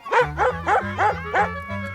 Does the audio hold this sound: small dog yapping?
yes